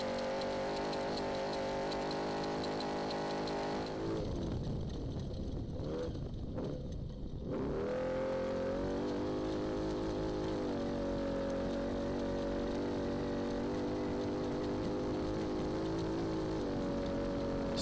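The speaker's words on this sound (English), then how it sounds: "picking up some engine audio." A NORRA Baja rally race car engine heard on board, a steady loud droning roar with a brief dip in pitch and load partway through, then continuing at high revs, no talk.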